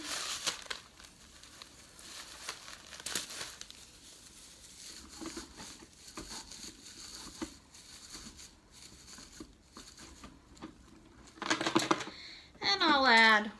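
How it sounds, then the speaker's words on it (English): Foil is crumpled and pushed into a sensory bottle, giving light crinkling rustles throughout and louder crackling bursts near the end, with a voice briefly heard at the close. "Now I'm going to add a little more foil."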